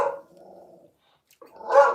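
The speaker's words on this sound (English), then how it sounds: "My dog." A dog barks twice indoors, a sharp close bark, a brief low growl, a pause, then a second louder bark, with no talk over it.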